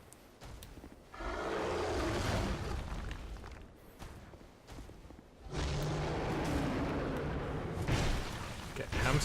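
Dragon breath attack in Dark Souls 2, two long roaring bursts of flame with a deep rumbling whoosh that each swell and sustain for a few seconds, heard close and loud while people talk over them.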